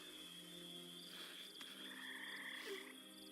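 A swamp frog in the RuneScape game croaks against a faint ambient backdrop of insect-like chirps and hum, the calls quiet and intermittent.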